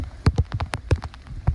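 Rain pelts down during a violent windstorm, with loud irregular drops and splashes striking a surface close by in uneven bursts, with no talk over it.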